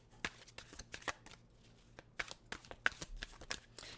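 Tarot cards being shuffled by hand, with quick, close, crisp papery riffles and taps coming in irregular bursts and no talking.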